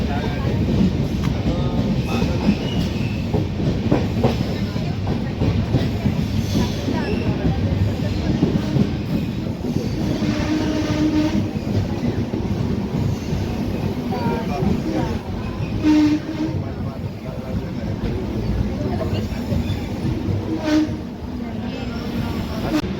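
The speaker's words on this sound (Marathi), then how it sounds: "आपली गाडी चिंचवड स्टेशनवर पोहोचली आहे" Indore–Daund Superfast Express standing at Chinchwad station gives steady, loud rail rumble with wheel clatter and a few short horn-like tones, with voices talking faintly in the background.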